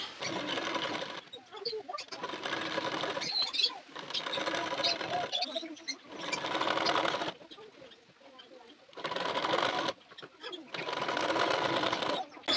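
A domestic sewing machine stitches a nighty sleeve to the shoulder in repeated runs of rapid, close whirring rattle, each lasting one to three seconds, separated by brief pauses.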